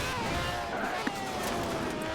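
A race car engine in the Gran Turismo video game gives a thin, high-pitched scream at moderate level. It holds steadily for about two seconds over a low rumble of road and tire noise.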